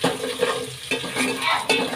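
Garlic and ginger fry in hot oil alongside green chillies, a steady close sizzle with stirring scrapes and a few pan knocks, no talk, while a mango rasam is being prepared.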